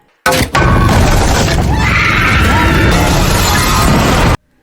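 A piano topples and crashes in a film scene after a coin drops onto it, giving a loud, dense smash and jumble of impacts that fills about four seconds before cutting off abruptly.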